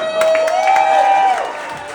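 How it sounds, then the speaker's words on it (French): Comedy club crowd at a roast applauds and cheers two comedians taking the stage, a loud dense wash of clapping and shouts with a sustained whistle-like tone running through it. "On les applaudit, mesdames et messieurs."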